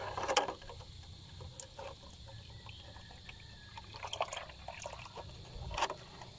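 Homemade fruit fly attractant liquid is poured into a container, giving a faint, soft trickle with a few light splashes and clinks against a quiet background.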